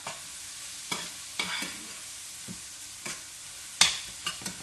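Green onions, tops and bottoms together, sizzle steadily in a hot pan while a utensil stirs them in sharp scraping strokes roughly once a second, close and clear with no talk.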